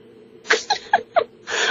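A person sneezes indoors, a short burst of breathy intakes and sharp bursts ending in a longer hissing release, close and alone without talk.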